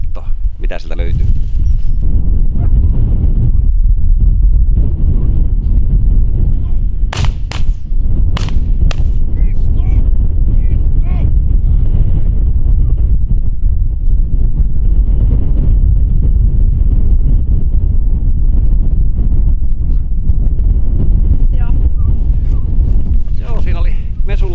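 Steady wind buffets an outdoor microphone during a bird dog hunt with a pointing dog in the field, a continuous loud low rumble with gusts, while people talk intermittently over it.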